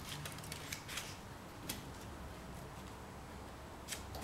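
Keys of an L.C. Smith & Corona Model 11 typewriter strike in sharp, irregularly spaced clacks, about half a dozen in a few seconds, heard close over a constant low hiss.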